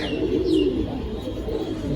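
Pigeons coo in a steady low murmur at a pigeon sale, with a brief chirp or call over the soft burbling from a nearby bird.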